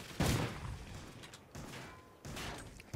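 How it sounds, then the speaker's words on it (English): A pump shotgun fires in the video game Call of Duty: Ghosts, three punchy shots spaced about a second apart, each with a short rumbling tail, and no talk over them. "That's a dirty pump gun. It has only two shots and you must do..."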